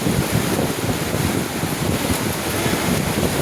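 Strong gusting wind buffets the microphone on a dark rainy day, a loud continuous low rumble with swelling gusts filling the whole stretch and no speech.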